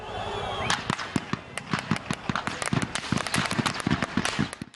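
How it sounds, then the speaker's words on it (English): Gunfire during chaos as troops fire on a crowd near tanks, rapid irregular cracking shots in dense bursts, loud and close, with faint crowd noise beneath. "He's then hit by the gunfire."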